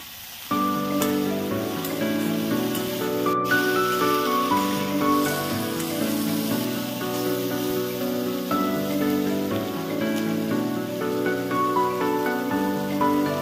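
Cluster bean sabzi with peanut powder stir-fried in a pan, giving a steady, dense sizzle that runs close and loud the whole time, with no talk.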